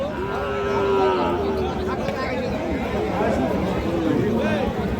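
Deshi-breed cows with calves moo at a crowded cattle market, drawn-out lowing calls rising and falling over a steady babble of people talking nearby.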